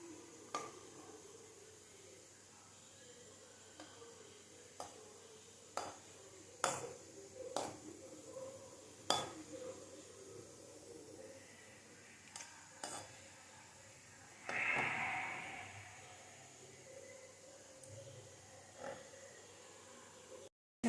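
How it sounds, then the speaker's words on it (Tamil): Cashews and raisins frying lightly in a little oil for white kesari: a faint, quiet sizzle broken by scattered spoon clinks and scrapes against the pan as the nuts are stirred. "முந்திரி பருப்பு கிஸ்மிஸ் எல்லாம் போட்டு லைட்டாக வறுத்து எடுத்து வச்சுக்கணும்"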